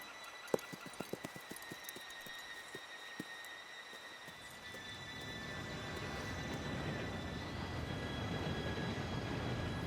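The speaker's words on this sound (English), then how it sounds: "Train should be here any minute now." A train pulls in within Red Dead Redemption 2. Scattered clicks and knocks give way to a broad rumble that swells midway and holds loud and steady to the end, with no talk.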